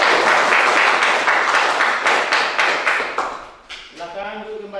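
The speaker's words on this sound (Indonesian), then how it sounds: "silakan berikan aplaus yang sangat meriah" A classroom full of students gives lively applause for the presenting group, with dense, close clapping that fades out near the end, followed by a brief stretch of talk.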